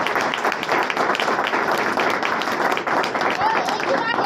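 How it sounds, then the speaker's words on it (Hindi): A seminar crowd claps loudly and continuously, a thick wash of hands that stays steady throughout with faint voices mixed underneath. "तो फिर एक बार फिर से अपने लिए जोरदार तालियां बजा दीजिए।"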